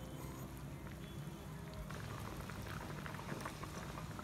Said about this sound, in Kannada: ಇವಾಗ 1-5 ನಿಮಿಷ ಕುದಿಸ್ಕೊಳ್ಳೋಣ